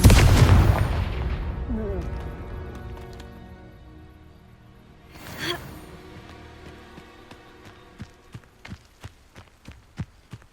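A Confringo fire spell explodes in the Hogwarts Legacy video game, a loud booming blast that decays over several seconds, followed by a second whooshing hit and a run of sharp rhythmic impacts.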